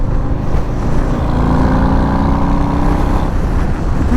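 A 2022 Harley-Davidson Low Rider S motorcycle on a test ride gives a steady, deep engine rumble mixed with wind rush, continuous and fairly loud with no talking.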